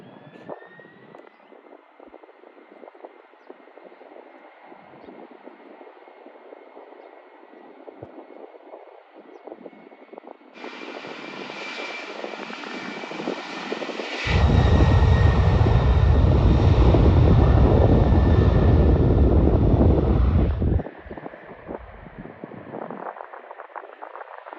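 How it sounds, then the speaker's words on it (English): A C-5M Galaxy military transport jet takes off with a steady, building engine roar. Midway a louder, deep rumbling blast swells and holds for several seconds, then drops back to a distant hum. "The C5M Galaxy took off too slow, forcing the Airbus A330 behind it to go around."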